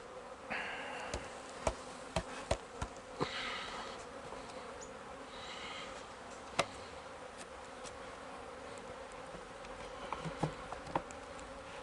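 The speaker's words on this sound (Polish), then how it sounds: "Jak widać pszczoły jest bardzo dużo." A steady insect buzz hums throughout, with scattered sharp clicks and taps; many honey bees drone continuously at close range at a hive, no voices.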